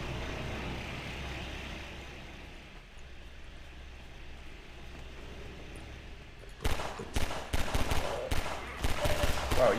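Gunfire in the Half-Life 2 video game, quiet ambient rumble for several seconds, then a burst of loud, sharp shots repeating in quick succession near the end.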